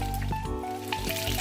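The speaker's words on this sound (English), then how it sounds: "So we're going to be frying that side one more time." Salmon pieces sizzle steadily in a hot pan as one side browns again, a close, continuous frying hiss with small crackles.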